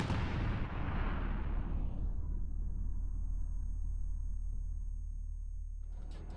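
An 11-ton US bomb detonating in Afghanistan: a loud broadband blast that decays into a long deep rumble, fading gradually over several seconds with a faint crackle near the end.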